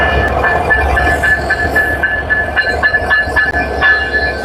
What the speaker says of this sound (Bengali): দেখুন আমাদের সেই ইঞ্জিনটি আবার ব্যাক করতেছে পেছনে লাগানোর জন্য